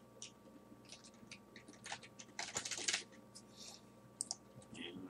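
Computer keyboard being typed on in short irregular bursts of soft clicks, faint and close, with a denser flurry of keystrokes partway through.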